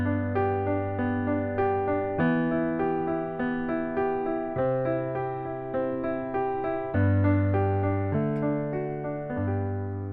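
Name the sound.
piano arpeggio pattern from a pop song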